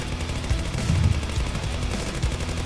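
Rapid bursts of gunfire in the video game Zombie Uprising rattle continuously, low and dense, with a few heavier thumps standing out.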